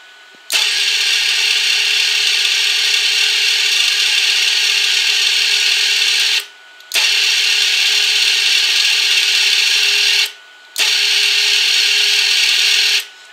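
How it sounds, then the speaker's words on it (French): A flux-core welder's wire feed motor runs as the button on the torch is pressed, pushing wire through nearly two metres of liner; a steady close whine in three long stretches broken by brief pauses, with no talking. "on peut voir que le fil s'entraîne"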